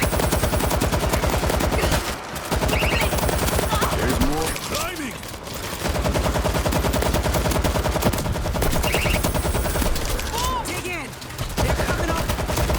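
Rapid automatic gunfire from zombie shooting in World War Z set in New York, loud, dense bursts running almost continuously with brief pauses, while someone speaks excitedly over the shooting.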